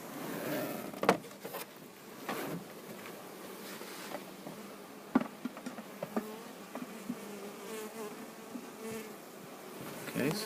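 A package of Italian honey bees being installed into a hive buzzes steadily throughout, a dense close swarm hum with occasional sharper bumps and knocks of handling.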